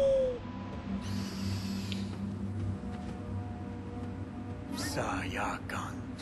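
An owl hoots within the video game Far Cry Primal, set over a steady low ambient drone, with a brighter burst of game noise near the end.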